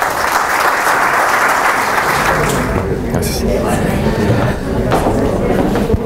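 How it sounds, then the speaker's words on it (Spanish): An audience at a medical health conference gives a loud burst of applause as a guest is invited on stage, with thick continuous clapping mixed with murmuring voices throughout. "les pido un aplauso para que suba aquí con nosotros"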